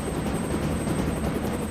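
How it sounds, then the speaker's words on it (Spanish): A Puma helicopter heard as a steady, loud rotor and turbine roar with a constant whine on top, continuous and close throughout. "Un helicóptero Puma,"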